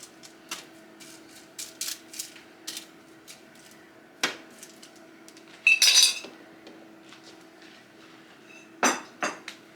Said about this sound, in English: I am gonna scrape the bowl out because I do want to make sure I get the garlic on there, the seasonings